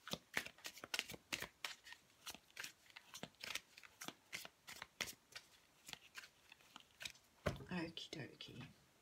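Cosmic Tarot cards shuffled by hand in a quick, steady run of soft riffling flicks, close and faint, with a few slightly louder shuffles near the end.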